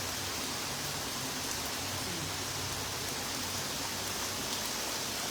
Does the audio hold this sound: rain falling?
yes